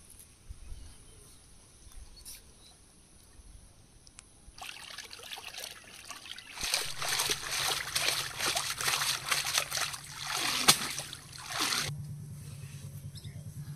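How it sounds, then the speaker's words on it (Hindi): Fish being washed in water outdoors on a windy day, starting with quiet wind, then splashing and trickling water building into sustained sloshing and pouring, with a brief sharp splash near the end. "मच्छी धो रहे हैं।"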